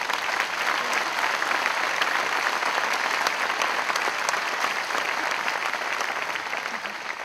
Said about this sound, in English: You deserve an amazing round of applause for what you've done.